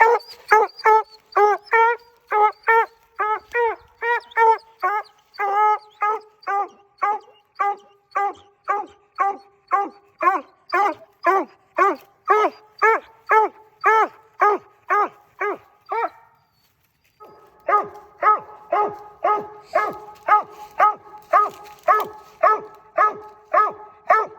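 A dog barks and whimpers in a long, rhythmic series of sharp, close yelps, roughly one per second, pausing briefly near the end before resuming, with no talk over it.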